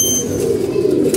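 Pigeons cooing close by in a brief low, steady, throaty murmur.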